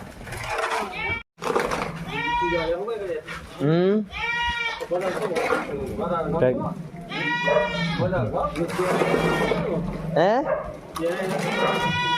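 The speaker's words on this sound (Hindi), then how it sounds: "तो अभी आ गई भैंसों की नार, मतलब बहुत सारी भैंस।" A herd of water buffaloes at a rural home where milking is underway, with many animal calls and bleat-like cries overlapping up close while people keep talking throughout.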